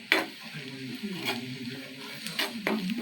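Onions fry in foaming mustard oil with a soft sizzle, punctuated by several sharp stirring scrapes and clinks against the pan.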